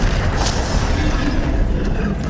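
A Bombarda explosion spell goes off in the Hogwarts Legacy video game, a dense, loud, sustained rumbling boom with bass-heavy roar that fills the whole moment.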